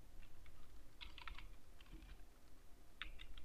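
Fingers tap out text on a computer keyboard in quiet, irregular clusters of key clicks, close but soft over a low background hum.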